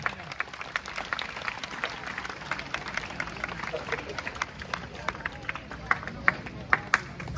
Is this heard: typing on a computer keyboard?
no